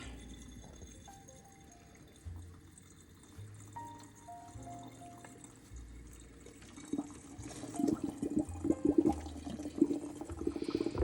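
Citric acid cleaning solution mixed with water is poured down into a toilet, building from a quiet trickle into a louder, splashing gush of liquid toward the end.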